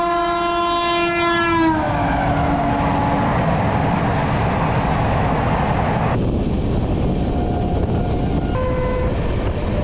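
A train horn blares loudly with a steady harmonic tone for about two seconds as an express train passes through Palwal railway station at high speed, followed by continuous close rumbling and rail clatter with brief whistle-like tones later on.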